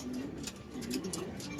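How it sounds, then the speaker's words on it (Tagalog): Soft, low pigeon cooing repeats in short phrases close by, with faint ticking and outdoor background. "Ito pa isang kalapati si Mutya naman."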